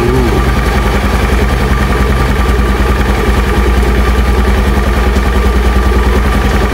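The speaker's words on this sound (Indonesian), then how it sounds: "kita nyalakan, motornya" A Honda Beat motorcycle engine, freshly refilled with new oil, runs at a steady, loud idle close by with an even, continuous hum and no break.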